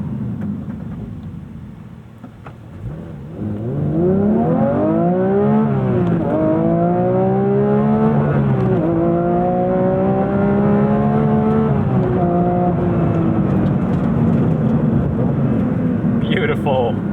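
A naturally aspirated Porsche 992.2 GT3 Touring engine pulls hard to redline with rising, wailing pitch, a quick dip at each gear shift and repeated climbs, loud and close from inside the car.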